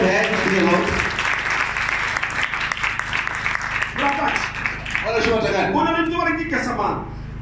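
A church congregation claps along during a service, the applause steady underneath voices and music that rise and fall throughout.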